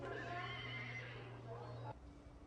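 A horse neighs loudly with a long whinnying call at a competition event, close by over a steady low hum, ending abruptly after about two seconds.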